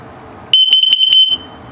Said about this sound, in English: ILP is good, carbon monoxide coming up